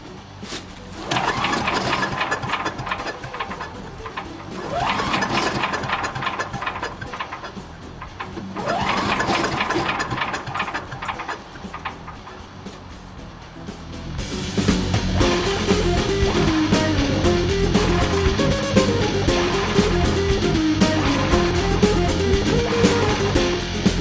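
A Troy-Bilt Chipper Vac's small engine is cranked several times, each pull sputtering briefly before dying, and then it catches and settles into a loud, steady running drone.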